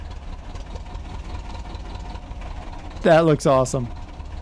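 Tractor engine in Farming Simulator 15 ticking over at a steady low idle, a continuous mid-low drone, with a voice speaking briefly over it near the end.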